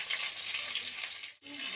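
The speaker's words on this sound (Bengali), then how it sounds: "ভেজে নিচ্ছি।" Oil sizzling steadily in a pan while frying for a Bengali hilsa fish curry, a dense continuous crackle close by with one brief dip near the end, no talking.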